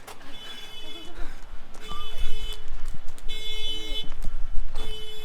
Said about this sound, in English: The car alarms are going off out here because of the thunder being so loud.